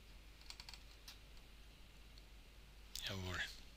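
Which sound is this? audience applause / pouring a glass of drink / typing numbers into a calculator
typing numbers into a calculator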